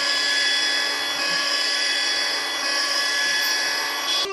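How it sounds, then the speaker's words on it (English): The toy blow dryer from a Barbie Dream House 2013 gives a steady, buzzy electronic whirring tone, held continuously and close for about four seconds before stopping abruptly. "And it has a blow dryer."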